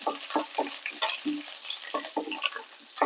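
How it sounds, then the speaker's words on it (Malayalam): Hot oil sizzles and crackles as dried red chillies and curry leaves fry, with a spoon stirring in repeated scraping strokes against the pan. "കുറച്ച് കരിവേപ്പില ഇട്ട് കൊടുക്കുക. തീ ഒന്ന് കുറച്ച് വയ്ക്കുക. ഇതാ നന്നായി വറുത്ത് കൊടുക്കാം."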